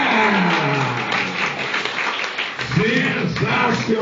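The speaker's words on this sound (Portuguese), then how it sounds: "Palmas para ela!" An audience at a Brazilian stand-up comedy show breaks into steady, sustained applause that fills the whole stretch, while a voice talks over the clapping.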